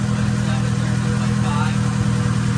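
A salvaged Honda Integra GSR's B18C1 engine idles steadily at about 1,200 RPM, a constant close, low drone with no revving throughout.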